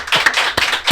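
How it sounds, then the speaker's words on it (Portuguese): A small podcast studio audience claps in three or four separate bursts, close and fairly loud over about a second, sounding sparse rather than like a full crowd. "Podem aplaudir"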